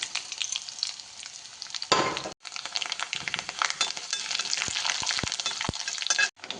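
Rice and crushed garlic fry in hot coconut oil with a loud, steady sizzle and hiss, broken by brief clinks and scrapes of a utensil against the pan and two short pauses.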